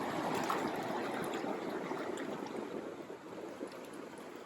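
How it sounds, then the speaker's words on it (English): The South Fork Payette River in Idaho rushes steadily in a continuous broadband wash of flowing water, heard alone without voices. "just the sound of the river is something we want to remember"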